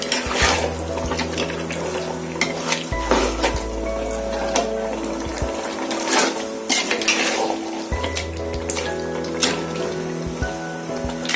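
A large pot of turkey biryani, about 1.5 kg, is stirred with repeated scraping strokes through sizzling, bubbling rice and meat, close and steady, with no talking.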